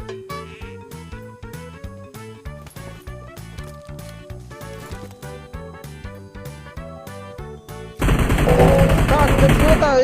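Gunfire in PUBG Mobile, a loud dense burst of automatic shots erupting suddenly near the end over a steady rhythmic musical backing that plays throughout.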